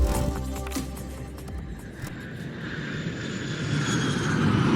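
An airplane on a long flight toward Argentina, heard as a steady, broad engine roar that swells slightly toward the end, with nothing else standing out.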